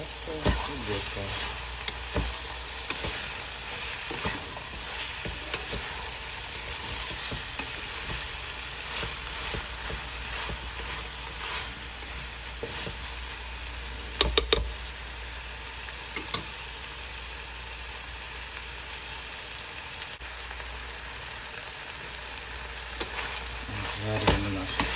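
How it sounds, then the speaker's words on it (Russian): Bell and hot peppers fry in a pan, giving a steady, moderately loud sizzle that runs throughout with occasional louder crackles. "Жарим наши перчики, теперь отправляем сюда же помидоры."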